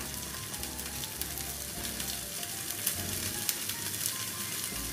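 Green peas for matar kachori sizzling and crackling in a pan, a soft, steady frying hiss with occasional stirring scrapes and small pops throughout.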